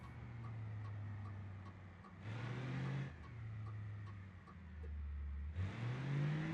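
A Tesla driving in BeamNG.drive, a smooth, steady engine-like hum that rises and falls in pitch, with brief surges in loudness, heard alone without talking.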